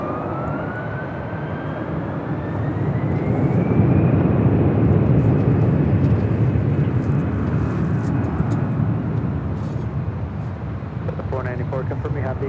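An Airbus airliner departing Los Angeles International Airport, a loud broadband jet roar that swells to a peak mid-way and then slowly eases while staying strong, with a faint rising engine whine over it.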